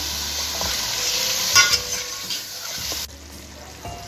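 Chicken pulao with beaten yogurt stir-fried in a pot, a continuous hiss of sizzling with a brief stirring clatter midway before the sizzle fades to quiet.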